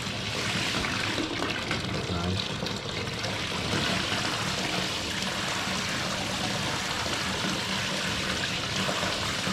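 Water gushes steadily from a tap into a bathtub in a luxury hotel bathroom, a loud close continuous splashing rush that holds unchanged throughout.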